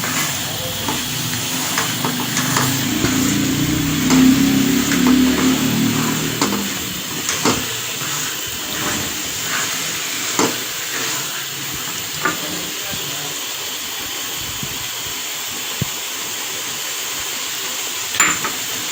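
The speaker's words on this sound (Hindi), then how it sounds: "तो अब हम भूनेंगे इन हलवे को अच्छी तरह से।" Grated carrot halwa roasts in desi ghee with a continuous hissing sizzle, louder in the first few seconds and then steady, with occasional sharp clicks of a spoon against the pan.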